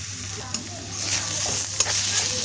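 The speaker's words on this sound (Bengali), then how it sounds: "এবার আমি রসুন আদা একসাথে পেস্ট করেছি, ওইটা দিয়ে দেব।" Garlic and ginger paste hits hot oil in a frying pan, giving a steady sizzle with stirring scrapes and a couple of sharp clicks of a utensil, fairly close and without talk.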